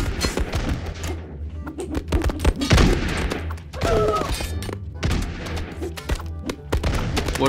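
Grenade explosions and gunfire ring out in a Totally Accurate Battle Simulator pirate campaign battle. Dense bursts of pistol and musket shots mix with dull thuds in a busy, moderately loud exchange.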